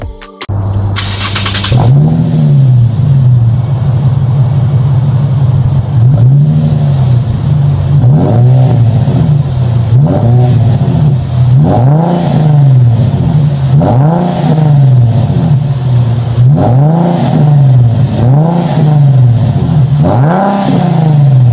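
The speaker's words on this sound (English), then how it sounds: "Muffler delete, then replace the muffler with welded pipes in its place and stock catalytic converters." A 2009-2013 Infiniti G37 sedan with a 3.7 engine, muffler delete, welded pipes and stock catalytic converters starts, then revs loudly and close by, with about eight evenly spaced blips rising and falling over an idle.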